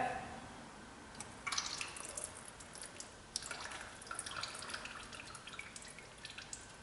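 Brake fluid dripping and spurting from a loosened brake bleeder on a Ford F550 with a hydro-boost brake system, a faint liquid trickle with small splashy drips, quiet and close, no talk.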